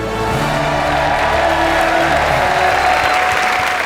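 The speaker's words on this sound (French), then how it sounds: "faites-moi un maximum de bruit pour Jojo Bernard" A large audience at a comedy awards show applauds and cheers continuously, a dense, loud wash of clapping with scattered whoops throughout.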